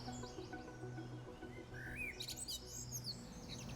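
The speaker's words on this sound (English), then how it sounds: "I can hear a blackbird going somewhere." Faint blackbird song phrases and twittering drift from a distance over a steady low background hum, with a brief clearer burst of melodic notes midway.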